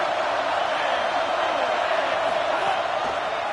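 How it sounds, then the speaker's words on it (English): A Louisville football stadium crowd roars in a steady, sustained wall of cheering and noise, loud and unbroken. "This crowd ready to make its presence known."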